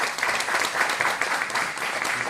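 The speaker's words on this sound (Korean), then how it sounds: "역시 환영의 박수 부탁합니다" An audience at a lecture on North Korean defector families gives welcoming applause for a speaker, a dense, steady clapping from many hands with no pauses.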